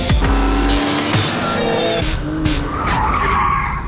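An Audi R8 sports car skids loudly across the finish line of a timed test lap, tyres squealing over engine roar that fades into a sustained screech, close and dominant throughout.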